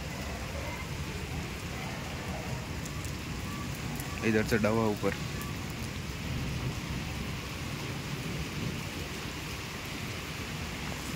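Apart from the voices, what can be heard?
heavy rain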